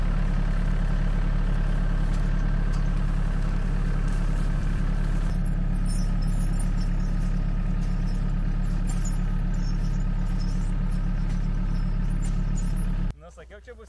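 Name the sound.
mini tractor engine running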